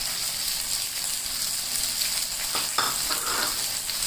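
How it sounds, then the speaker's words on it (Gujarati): Peas, chopped carrot and capsicum, with raisins and cashews, sauté in hot oil for vegetable poha, giving a loud, steady, close sizzle throughout, with a few scraping stirs toward the end. "હવે આ બધી સામગ્રીને મિક્સ કરીને સારી રીતે સાંતળી લઈશું."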